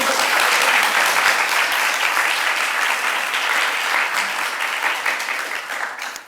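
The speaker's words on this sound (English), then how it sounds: "So give yourself a round of applause to be here." Audience applause at a memorial poetry reading at Cornell, a sustained even patter of many hands clapping that slowly eases off toward the end.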